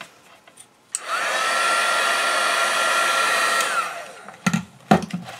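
Heat tool blowing hot air over clear embossing powder, a steady loud whirring drone lasting about three seconds after a click on, then a few knocks and handling sounds once it stops.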